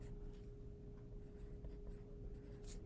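Writing on a board during a classroom division lesson makes faint, soft scratchy strokes over a low steady hum, with no talking.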